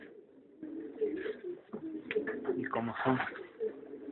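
Pigeons coo in a loft, soft repeated throaty calls close by, while someone speaks briefly in Spanish over them.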